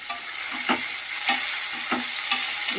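A spoon scrapes and stirs through curry leaves, mint and coriander frying in a pan, with steady sizzling and a rhythmic series of stirring strokes, close and fairly loud.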